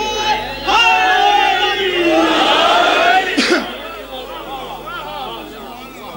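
Large crowd at a religious gathering loudly chanting a slogan in unison, with voices rising and falling in a rough, echoing roar before fading into mixed murmurs.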